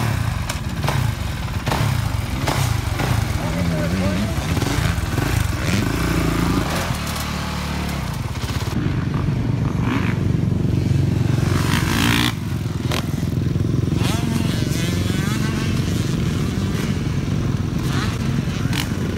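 A 2018 Honda CRF450R motocross bike ridden at a motocross park, loud raspy four-stroke engine revving up and down with throttle blips and rough clattering, wind noise rushing over it throughout.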